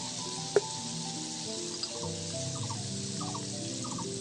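Onion garlic paste, turmeric and salt sizzling in a pan with ghee, a soft steady frying hiss with faint stirring clicks, quiet and continuous.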